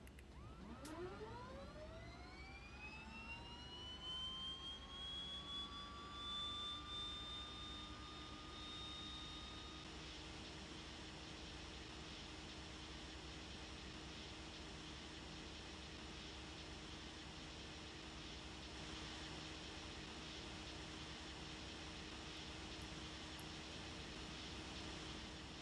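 The left engine of a simulated aircraft in a flight simulator game spooling up, a rising whine that sweeps upward over several seconds and settles into a steady jet-like roar with constant hum.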